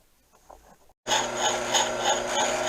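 Bronze hammer parts are faced on a combination lathe. After a brief quiet stretch the machine starts suddenly, giving a loud, steady whirring hum with a metallic cutting rasp that holds to the end.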